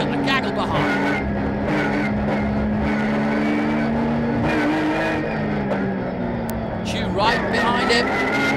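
Touring race cars, including a BMW 320i, racing in a pack at a circuit, engines droning and rasping together at close range while a commentator talks over them.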